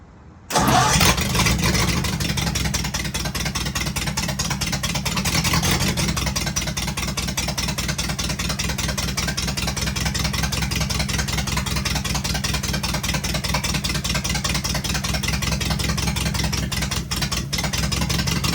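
A car engine cranks and catches after fuel is added, then runs on loudly and steadily at a fast, rough idle with a constant throbbing pulse, close and alone for well over fifteen seconds.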